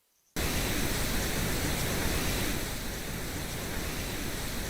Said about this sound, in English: With the pink noise in place, let's get ready. It's going to be a bit loud.